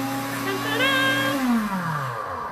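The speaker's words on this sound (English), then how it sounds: "is the blender always so loud?" A Pampered Chef blender pureeing vegetables for a hidden-vegetable marinara, a loud steady motor whine whose pitch sags as it works, with faint voices under it.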